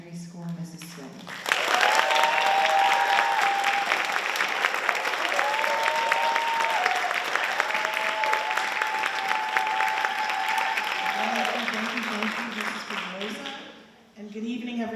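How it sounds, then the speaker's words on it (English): School board meeting audience gives a long, loud round of applause for a retiring elementary school principal, lasting around twelve seconds, with talk briefly before and after and a voice partly over the clapping. "So please give a nice round of applause for the principal of Whiting Elementary School, Mrs. Swilly."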